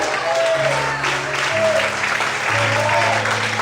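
A church congregation applauds the Lord in a steady, full round of clapping, with voices heard talking and calling out beneath the applause.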